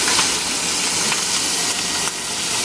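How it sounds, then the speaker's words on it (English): Shrimp and garlic sautéing in a hot pan, a loud, close, continuous hissing sizzle that holds steady throughout with no voices. "Now I'm just going to saute these for a couple of minutes."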